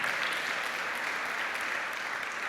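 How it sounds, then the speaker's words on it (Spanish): A church congregation applauds during a sermon, producing a dense, steady wash of clapping that fills the whole stretch at an even, moderate level. "Denle un aplauso al Señor, hermano."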